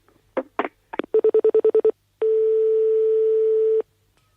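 A telephone number dialed on a phone: a few irregular tones, then a quick even run of eight DTMF beeps, followed after a short pause by one long steady tone, all clear and alone.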